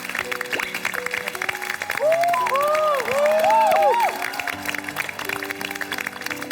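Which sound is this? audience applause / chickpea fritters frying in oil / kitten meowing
audience applause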